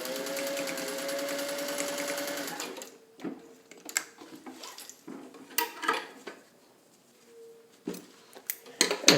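A sewing machine stitches over a thick seam, with a steady rapid whirring run for nearly three seconds that then stops. Scattered clicks and handling knocks follow at close range.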